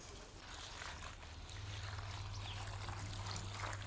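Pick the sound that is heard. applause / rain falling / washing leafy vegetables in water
washing leafy vegetables in water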